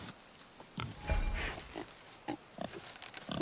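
A boar in the video game God of War grunts and snorts in a series of short, irregular bursts at close range, fairly loud against a quiet background with no talk.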